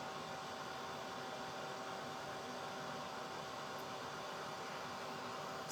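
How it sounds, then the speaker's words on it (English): A hair dryer blows steadily on a decoupaged clay pot being spun by hand, a constant close whooshing drone with a faint whine, running unbroken with no voices. "I actually have the hair dryer on it drying it."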